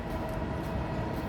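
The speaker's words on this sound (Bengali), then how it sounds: "আমরা দেখতে পাচ্ছি মেট্রো রেল আসতেছে, মেট্রো রেল এই যে দেখা যাচ্ছে" A Dhaka metro rail train approaches near Diabari lake park, its low, continuous rumble and rolling noise filling the short stretch at moderate loudness.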